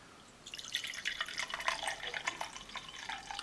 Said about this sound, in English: let's go ahead and pour this out